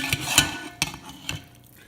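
Cooked ramen noodles drop into a bowl of egg mixture and get stirred, giving a few separate wet clinks and scrapes spaced through a quiet kitchen.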